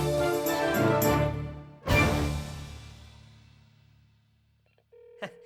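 In a cartoon, a few quick dialing tones, then a loud clack like a handset being picked up, fading out, followed by a single steady electronic ringing tone near the end.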